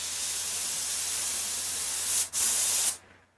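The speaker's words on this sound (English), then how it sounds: "So my airbrush is normally set at 60 psi." An airbrush set around 60 psi sprays paint onto a sculpted prop in a loud, steady close hiss, with a brief break near the end before it cuts off.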